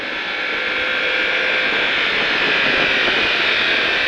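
A motorcycle accelerates on a race track, its engine a loud, steady roar that holds close and swells slightly toward the end.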